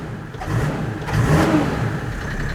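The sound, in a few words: diesel off-roader engine revving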